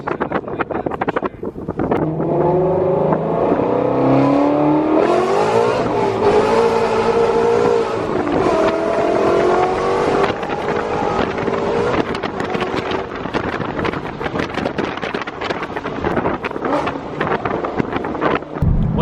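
A Ford Mustang GT350 exhaust heard from inside the moving car, a loud, steady engine drone with rising and falling pitch sweeps as the revs change through shifts, mixed with constant road and wind roar and no talk.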